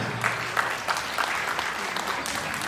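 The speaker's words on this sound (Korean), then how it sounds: "여러분 두 사람을 박수로 맞이해보도록 하겠습니다" Wedding guests in a convention-centre grand ballroom applaud a couple arriving to sing, a dense, steady wash of clapping that carries on evenly throughout.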